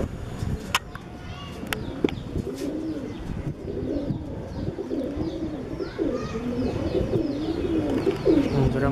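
A pair of pigeons at a pigeon club coo steadily and close by in repeated rolling phrases, with a few sharp chirps and clicks early on and faint background noise throughout.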